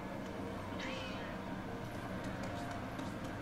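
A cat in the video game Astral Chain gives a single short meow near the start, set against steady in-game background noise.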